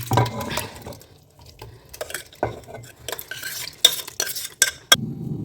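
Collected milk cream being scraped into a large pot with a spoon: repeated scrapes and clinks of utensil on metal, some sharp knocks near the end, close and alone.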